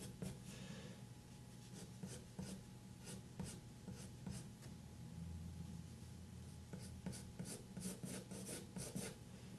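A pencil draws lines on paper, giving soft, close scratching strokes in a steady, repeated rhythm, quiet and heard alone.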